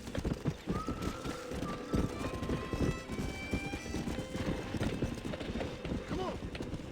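A horse in the video game Red Dead Redemption, hooves clopping in a busy irregular rhythm as it is calmed, with a few neighs and snorts over the steps, close and clear, with some talk mixed in.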